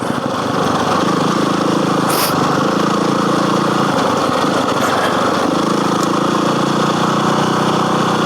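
A small dirt bike engine, a KTM 530 or DR-Z400, drones loudly and continuously on a sandy forest trail, its pitch dropping and rising as the revs fall off under engine braking and pick up again.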